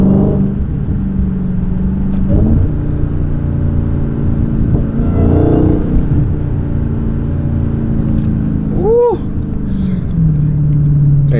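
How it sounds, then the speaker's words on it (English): Supercharged Dodge Hellcat engine rumbles loudly while cruising in light traffic, with a brief rev and supercharger whine near the end, heard close with a voice faintly present. "Y'all need to hear that whine this morning."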